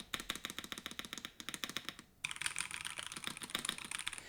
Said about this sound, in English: this is once again the K86 wireless keyboard from Attack Shark, and as you can see in terms of sound